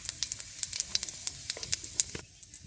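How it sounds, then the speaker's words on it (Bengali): Cumin seeds tempering in hot oil, a steady sizzle broken by many sharp crackles and pops, close and lively, fading to quieter hiss at the end. "ফোড়নের জন্য কটা জিরে দিলাম"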